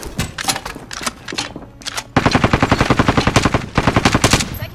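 Rapid automatic gunfire in a Call of Duty: Modern Warfare match, a dense rattling burst that starts loosely, then settles into a steady fast stream of close, loud shots lasting several seconds.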